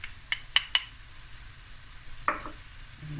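Garlic and ginger go into a pan of braised onions: faint sizzling under a few light clinks and scrapes of a utensil against the pan, close and quiet.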